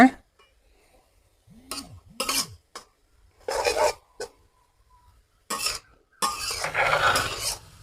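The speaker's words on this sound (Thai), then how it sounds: "เดี๋ยวเราจะลวนไปแบบนี้ก่อนนะคะ ให้น้ำเขาระเหยให้หมดให้เหลือแต่น้ำมันนะคะ" A spatula scrapes and rasps against a pan while minced pork with holy basil is stir-fried dry. The strokes come in short, close bursts separated by pauses, with a few brief vocal-like sounds in between.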